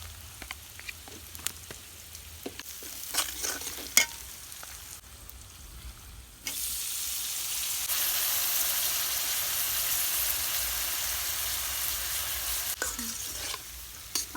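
Food frying in a pan with turmeric and chilli added and stirred at an evening home cooking session: scattered scraping stirs, then a steady loud sizzle that holds for several seconds, with occasional clinks of the spoon.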